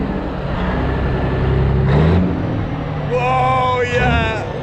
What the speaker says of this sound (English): Give it a little rev, Wayne.